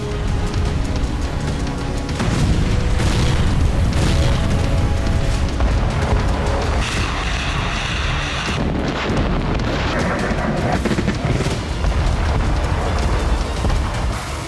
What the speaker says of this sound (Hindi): वजह है रूसी सेना की भीषण मिसाइल वर्षा।